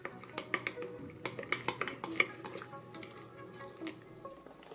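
Slime is stirred with a generous pour of contact lens solution, giving a run of quick sticky clicks and wet squelches, close and fairly faint, that thin out toward the end.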